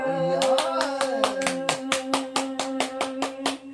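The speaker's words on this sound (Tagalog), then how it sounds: "Wow, palakpak." Hands clap in a steady, rhythmic beat, sharp and close, over a sung love ballad with a held instrumental tone beneath.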